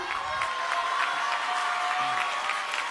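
A crowd at a public event in Chilchota, Michoacán, with President López Obrador present, applauds in a sustained, even wash of many hands, moderately loud and somewhat distant, with faint voices mixed underneath.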